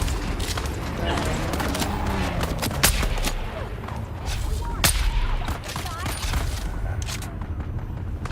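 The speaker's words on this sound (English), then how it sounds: "Let's see, so I can shoot you guys." Gunfire in the Dune: Awakening video game as NPCs are shot, with repeated sharp bursts and booms mixed into busy game sound, while a voice talks over it.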